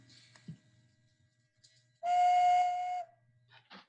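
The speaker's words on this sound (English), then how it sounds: "we're going to get a whistle" One clear, steady whistled tone lasting about a second, close and fairly loud against a quiet background, followed by a few faint short sounds.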